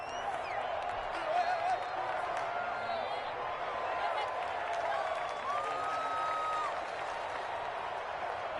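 Home stadium crowd in an American football video game, a broad steady roar of distant fans with faint whistles and whoops, under a commentator's voice.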